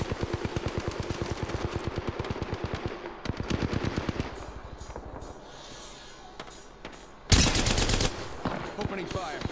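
Rapid bursts of automatic gunfire in the Apex Legends video game, with dense strings of rattling shots followed by a pause and then a sudden louder burst near the end.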